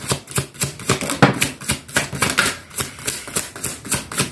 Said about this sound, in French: je vais sortir 4 cartes